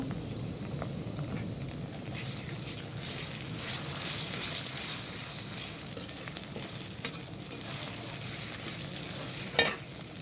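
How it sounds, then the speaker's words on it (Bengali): Ginger, garlic and cumin paste fries with onions in a pan in a village kitchen, making a dense continuous sizzle with occasional stirring scrapes and a sharper clack near the end, and no talking. "আদা রসুন জিরা বাটা একটু ভেজে নিব"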